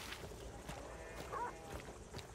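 A cow moos in the frontier shooter Hunt: Showdown 1896. It gives one low, drawn-out call at a moderate distance over faint ambient rustling, with no talking.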